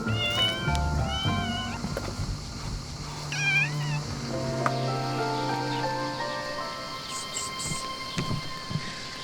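Several high, wavering kitten meows come in short bursts over a low rumbling background, fairly close and insistent, from a kitten stuck up inside a car engine on Skiathos.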